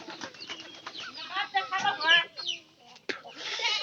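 A chicken clucks close by in a farmyard, giving a run of short nasal calls with a rustle or flap near the end and a brief pause.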